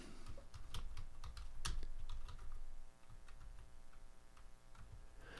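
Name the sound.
typing on a computer keyboard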